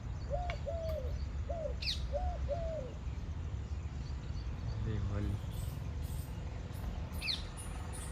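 Soft, repeated dove calls sound at a distance on an onion farm in a Botad village, a few short cooing notes in a row over a steady outdoor background hum, with a brief voice.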